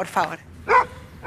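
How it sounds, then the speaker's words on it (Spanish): A small female dog gives two short yappy barks indoors, close and fairly loud, with a person speaking briefly around them. "vení que te muestro a la perrita por acá"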